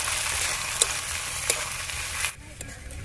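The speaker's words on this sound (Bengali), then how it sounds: "পেঁয়াজের সাথে মশলাটা এক মিনিটের মতো এভাবে ভেজে নেব" Onion with spices, garlic and green chili frying in a pan, a steady broad sizzle with a few sharp spoon clicks against the metal; the crackle drops off suddenly near the end, leaving quieter scattered pops.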